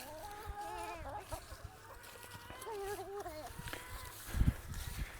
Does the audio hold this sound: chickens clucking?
yes